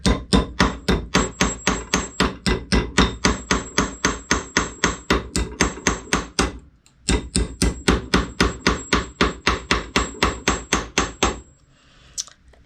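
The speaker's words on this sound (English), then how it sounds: "And gently hammer it into form so as not to completely take out my texture that I just added." Steady, rapid metal-on-metal strikes from a raising hammer forming a textured metal pendant, about forty sharp close blows in an even rhythm, a brief pause near the middle, then tapping resumes before stopping.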